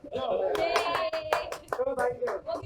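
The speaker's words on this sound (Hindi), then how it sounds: "जोरदार तालियां।" A short burst of hand clapping from a group at the Dada Saheb Phalke Award 2020 event in Mumbai, mixed with voices calling out.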